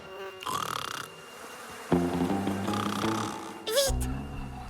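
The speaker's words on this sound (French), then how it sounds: "Mais ce sont juste des mouches." Cartoon flies buzzing in short whiny bursts, with a rising and falling drone, several comic swoops and a low snoring-like buzz, set among cartoon sound effects and music.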